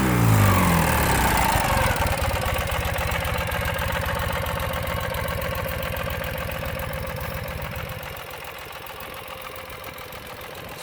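A 2009 Ural Sahara Limited Edition two-wheel-drive sidecar motorcycle engine idles with a steady, throbbing mid-low rumble that eases slightly quieter near the end, no voices present.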